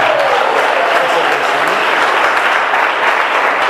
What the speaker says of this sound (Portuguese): E a igreja dá uma salva de palmas.